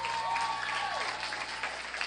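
A gala audience at the Emgage USA dinner applauds as a speaker is introduced, a sustained, fairly full spread of clapping hands with a faint tone gliding through the start.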